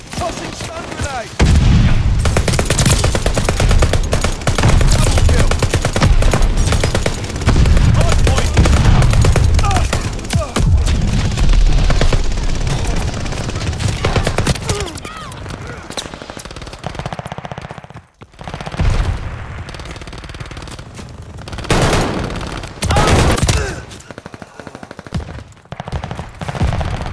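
Sustained gunfire bursts and explosive booms fill a Call of Duty Vanguard Hardpoint match, with rapid machine-gun rattles, near and loud, easing into scattered shots and pauses toward the end, with occasional game voice lines.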